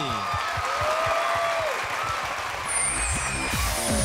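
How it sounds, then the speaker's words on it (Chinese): Studio audience applause on a Taiwanese variety dance-competition show, a steady dense clatter of clapping at even loudness throughout, with a host's voice briefly audible and an electronic music sting rising near the end. "掌声鼓励"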